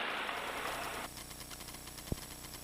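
A small airplane engine idles before takeoff, a steady, loud droning hum that drops slightly in level partway through, with a brief sharp click near the end.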